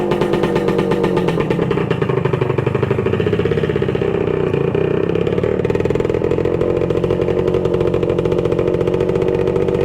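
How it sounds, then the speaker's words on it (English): A 1966 Suzuki Bearcat two-stroke motorcycle engine runs loud and close, a steady buzzing idle with no voices, holding an even pitch throughout. "Nothing like a two-stroke."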